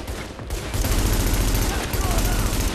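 Gunfire in the video game The Division, a loud sustained fusillade of rapid shots filling the clip, with a voice speaking over it.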